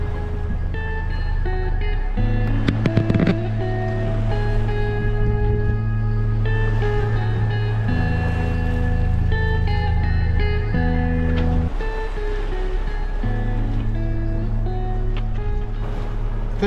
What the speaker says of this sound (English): We got the engine on because the wind's all gone.